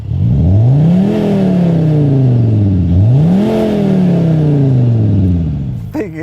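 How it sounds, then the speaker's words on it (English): A 2020 Skoda Kodiaq vRS diesel SUV is revved twice, each rev swelling and falling in a smooth arc. Speaker-played V8-style sound augments a faint diesel rattle, close and loud, with a short clatter at the end. "you're still getting the diesel rattle from the front and then this kind of slightly artificial computer gaming noise from the back end"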